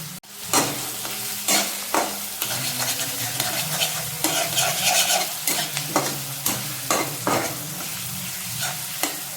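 Meat sizzles in a hot pan with onions and ginger-garlic paste while a spoon stirs it, giving repeated scraping strokes over a continuous loud fry.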